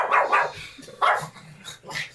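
Dogs bark close by in a few sharp bursts, a quick double bark followed by two more single barks with brief pauses between them.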